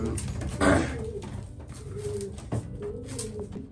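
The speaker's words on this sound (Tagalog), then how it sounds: "Yun nga mga kalapatids, yan yung si Red Monkey" Racing pigeons in a breeding loft give soft, low cooing calls over a murmur of background shuffling, fairly close and without talking.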